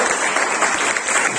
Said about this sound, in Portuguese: Aplauda o Senhor nesta manhã.